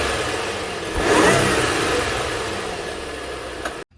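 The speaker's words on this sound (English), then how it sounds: "let's go ahead and hear what the stock intake sounds like first" Supercharged 2016 Audi A7 Quattro Prestige on its stock intake, a short rev that swells and then fades back toward idle, heard close and alone before cutting off abruptly.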